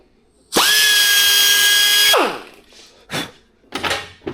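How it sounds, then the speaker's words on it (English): A die grinder touching up a metal part during a Triumph 650 motorcycle engine teardown, one loud high whine for about a second and a half that winds down, followed by a few short clunks and handling noises. "I'm just going to go ahead and touch it a couple times with the die grinder"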